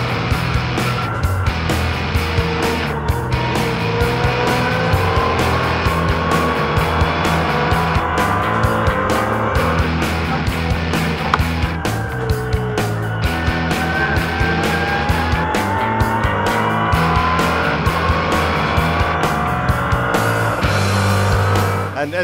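Bentley Continental GT and McLaren race cars running on a circuit in a GT sprint race, engines droning steadily and loudly throughout with shifting pitch as they chase along the back straight, heard from onboard.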